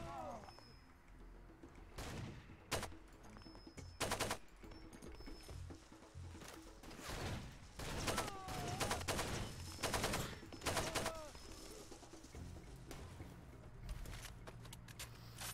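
Sniper rifle shots in the video game Far Cry 2, several sharp reports at irregular intervals over game ambience, with chirping birds and a horse-like clatter in the background.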